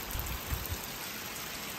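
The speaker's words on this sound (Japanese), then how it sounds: "めちゃくちゃ雨降ってます。" Heavy rain pours steadily on a Japanese farm in August, a dense continuous hiss with a few louder patters near the start, no voices.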